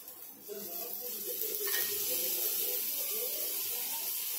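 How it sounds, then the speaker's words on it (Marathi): Bombil fish coated in rice flour and semolina frying in oil on a tawa, a steady soft sizzle that grows slightly after the start and holds on, fairly close, with some faint background sounds. "बोंबील मी तव्याला ठेवलेले आहेत। आता आपण त्याच्यावरून पण तेल टाकूया।"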